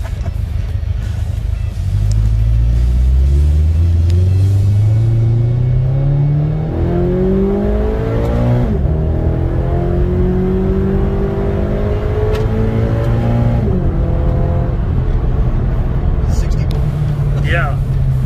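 A 2015 Scion FR-S with its factory OEM exhaust revs up and down, heard from inside the cabin: a loud, steady engine drone climbing and falling in pitch through several throttle sweeps across the whole stretch.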